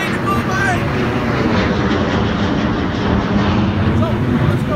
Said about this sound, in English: Wait for the plane to go by!